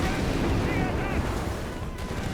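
Dense, continuous battle din of German gunfire in the World War II strategy game Company of Heroes 3, with rattling shots and booming bursts layered over one another at a steady loudness throughout.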